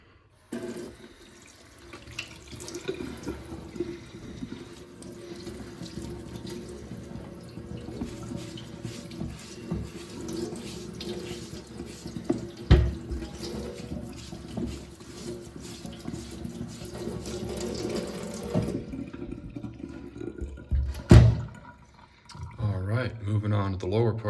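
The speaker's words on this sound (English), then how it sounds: "now before the lather dries on here and leaves that soapy residue on there, we're going to wash this off" Running tap water rinsing soap lather off leather work boots, a steady close splashing and trickling stream lasting most of the clip, with brief knocks near the end as the flow stops.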